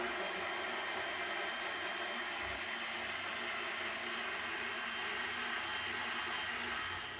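Stand mixer running at speed 2, kneading bread dough for hamburger and hot dog rolls, a steady continuous motor whir held at even volume from start to finish with no talking.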